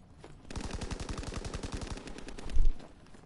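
Rapid automatic gunfire in the Call of Duty WW2 campaign, a loud burst of evenly spaced shots lasting about a second and a half, then a heavier boom, with no speech.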